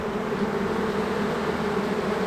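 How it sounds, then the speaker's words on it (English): A dense, steady buzzing of many bees swarming close by, constant and unbroken throughout with no voices. "let's hope all the bees go inside"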